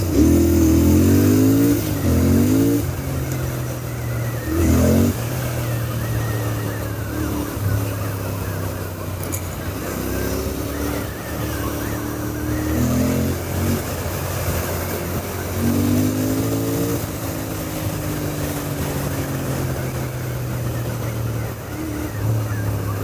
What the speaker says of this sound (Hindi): और इसका जो एग्जॉस्ट साउंड है ना, वो एकदम सुनने में एकदम फील आ रहा है।